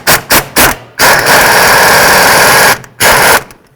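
Three quick bursts from a pneumatic or impact tool spinning bolts off a 2008-2020 Dodge Grand Caravan during water pump replacement, followed by a long steady whirring run and one more short burst, all loud and close with no talking.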